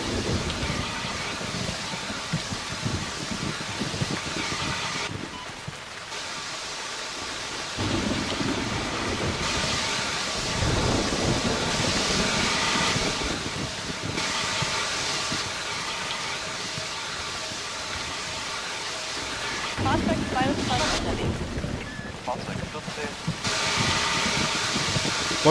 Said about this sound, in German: Ich liebe Gewitter.